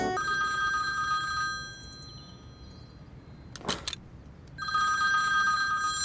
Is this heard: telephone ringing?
yes